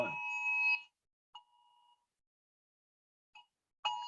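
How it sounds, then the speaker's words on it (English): A cell phone sounds an emergency alert, giving loud steady electronic tones in repeated bursts with pauses between them, heard close and without talk. "Cell phone's going crazy with an emergency alert."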